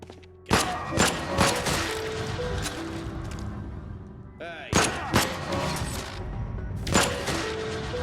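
Sharp, punchy gunshots in Void Bastards, fired singly and in quick pairs over a low rumbling ambience. The shots are close and loud, with gaps of a second or two between groups.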